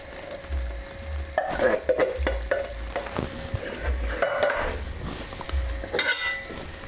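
Tomatoes go into a simmering French-style beef casserole with red wine and are stirred through, a spoon scraping and knocking against the pot over a steady low sizzle and bubbling, close up, no voices.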